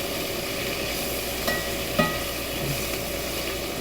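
Mushrooms and onions sizzling in hot bacon fat in a pan while a Salisbury steak is being made, a steady moderate fry hiss with a couple of brief utensil knocks.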